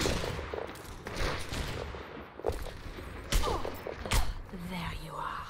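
Gunfire in the video game Necropolis: several sharp, separate shots crack out irregularly over a busy game soundscape, with a voice speaking faintly at times.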